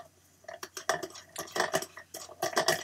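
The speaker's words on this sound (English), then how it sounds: "I wonder if the VOSS lid could fit on this" A VOSS bottle lid is tried on a Glacier Isle water bottle, producing a quick series of close plastic clicks, taps and scrapes in uneven bursts, with no speech.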